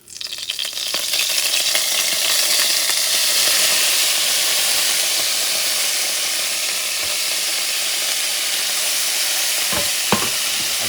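Steady, loud sizzling of food frying in hot alligator oil in a pot on medium heat, a dense continuous hiss close up with occasional stirring scrapes and a couple of sharp clinks near the end.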